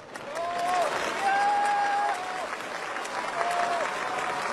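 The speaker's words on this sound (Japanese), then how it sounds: "今も声援いただきましたけれども" Baseball fans at a game in Kumamoto applaud and cheer, a broad stadium roar of clapping and voices filling the whole moment, steady and fairly loud with a few tonal calls over it.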